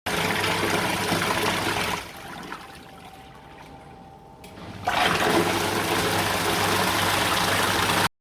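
A 300-watt folding washing machine motor runs with churning water, a loud steady hum that drops quieter for a few seconds midway before surging back to full strength.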